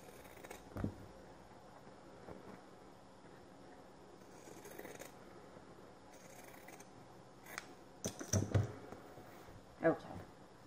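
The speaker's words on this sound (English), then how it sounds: "I will use my zigzag scissors for cutting the excess fabric on this side." Zigzag pinking scissors snip excess fabric from a handmade trapezium purse flap in a few quiet, scattered cuts with pauses between, the last ones sharper and closer.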